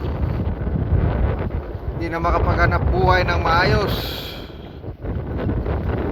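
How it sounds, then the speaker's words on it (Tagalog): Strong wind buffets the microphone on an island shore, a loud continuous roar and rumble while someone speaks over it. "Grabe ang lakas ng hangin"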